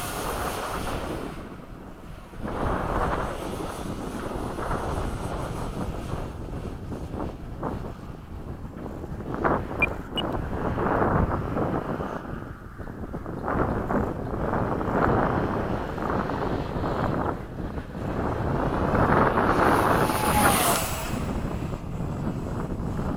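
A Hobby King Sky Sword 70mm electric ducted fan RC jet on a 6S 30C 4000 pack flies past with a steady, rushing whoosh. Wind buffets the microphone and the fan whine swells and fades as the jet passes.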